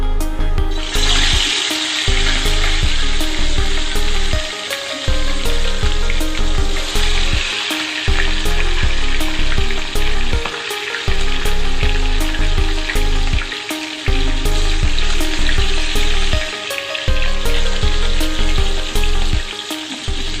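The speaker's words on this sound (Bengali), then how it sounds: "আমি এখানে মাছের মাথাগুলোকে সুন্দর করে ভেজে নিচ্ছি" Fish heads fry in mustard oil in a kadai, a loud, dense, continuous sizzle and crackle with occasional stirring scrapes, steady throughout.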